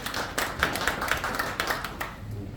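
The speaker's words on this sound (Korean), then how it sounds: "박수 부탁드리겠습니다." A small audience at an annual general meeting of a Korean clan association gives scattered, fairly sparse claps that thin out toward the end.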